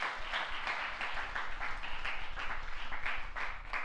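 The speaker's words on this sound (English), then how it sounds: "Let's give Mr. Maddox another round of applause" Applause from students at a school morning assembly, a steady broad wash of many hands clapping, moderately loud and unbroken from start to finish.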